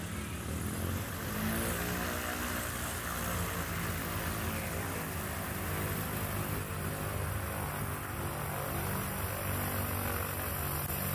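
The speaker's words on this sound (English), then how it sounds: "And taxiing in front of you again, you've got Scott Sweet in the Belanca" A Bellanca light aircraft taxis at a STOL competition, a steady droning propeller engine with a rising and falling buzz, fairly close and continuous throughout.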